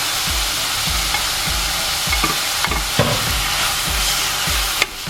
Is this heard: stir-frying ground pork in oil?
yes